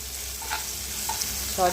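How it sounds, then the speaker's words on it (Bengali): Salted bitter gourd frying in oil in a home kitchen, a continuous hissing sizzle with a couple of light stirring touches, no talking. "তাই উচ্ছেটা একটু নুন মাখিয়ে ভেজে নিচ্ছি"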